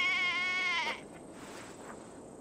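A sheep in Assassin's Creed Valhalla gives a single wavering bleat up close, lasting under a second before fading into quiet ambient background.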